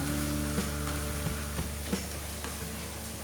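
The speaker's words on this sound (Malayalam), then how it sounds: "മട്ടൻ നന്നായിട്ട് വഴന്നിട്ടുണ്ട്." Mutton roast masala sautéing in a pan, a steady low sizzle and frying hiss with a few soft stirring knocks, close and moderately quiet with no talk.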